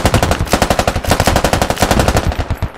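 Rapid automatic gunfire in the video game Squad, a loud, close, unbroken burst of evenly spaced shots lasting a few seconds with no talking.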